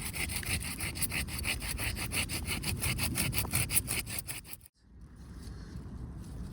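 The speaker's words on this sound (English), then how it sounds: "I'm just going to use a pruning saw and get in there as close as possible" A pruning saw cuts through a woody rose sucker stem at its root, rapid rhythmic back-and-forth rasping strokes close up for several seconds, stopping abruptly before a quieter outdoor ambience.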